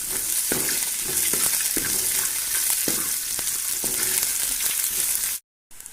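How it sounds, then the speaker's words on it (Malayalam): Onions sautéing in a pan with salt and turmeric, giving a loud continuous sizzle close by, with repeated stirring clicks and scrapes throughout before the sound cuts off abruptly near the end. "പിന്നെ ആവശ്യത്തിന് ഉപ്പ്, മഞ്ഞൾ ഇതെല്ലാം കൂടെ കൂടി ഒന്ന് ചെറുതായി ഒന്ന് വഴറ്റിയെടുക്കണം"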